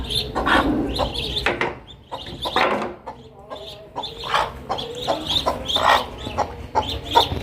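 Half-grown ducklings call in a busy run of chirps and peeps, close and fairly loud, with a brief pause partway through.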